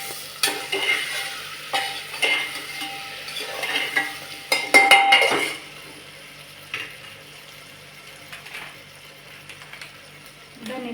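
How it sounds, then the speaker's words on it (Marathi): Vegetables for khichdi sautéing in a pan, with steady sizzling broken by several scraping stirs and a louder clatter midway, then a quieter sizzle continuing near and alone. "आणि ह्याला आता आणखी 2 मिनिटं परतू"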